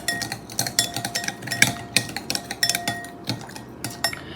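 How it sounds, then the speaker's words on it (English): Utensils clink and scrape against a bowl in quick, irregular bursts as a low calorie pasta salad is stirred, close and fairly loud with no talking. "And then we're going to stir it up."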